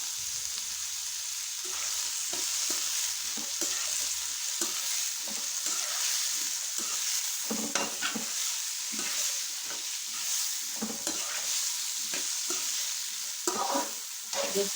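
Peas and chopped carrots fry in a pan for Chinese pulao, a steady close sizzle with frequent scraping stirs and clinks throughout, no voices heard.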